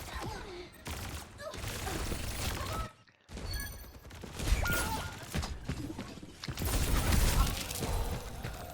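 Gunfire and ability effects from an Overwatch match, a dense, loud barrage of shots, impacts and explosions that continues with only a brief gap.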